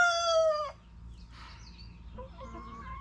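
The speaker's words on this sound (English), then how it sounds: "Some loud roosters" Roosters on a homestead: one loud, close crow is followed by softer clucking and scattered fowl calls in the background, with no talking.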